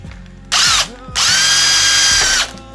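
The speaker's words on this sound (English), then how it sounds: "But I got my lid drilled." A power drill bores a hole through a plastic lid, with a short high-pitched burst followed by a longer sustained loud whine, both close and with no talking.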